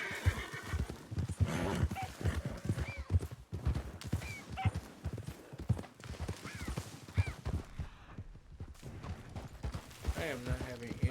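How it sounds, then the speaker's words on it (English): Several horses in Red Dead Redemption 2 clip-clop steadily and neigh repeatedly at close range, with hoofbeats and whinnies overlapping throughout. "there is a lot of other horses up here"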